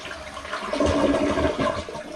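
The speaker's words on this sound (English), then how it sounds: "we're ready to give it the first test flush" A newly installed toilet gives its first test flush, a loud close rush of water swirling and draining for about two seconds, with no voices.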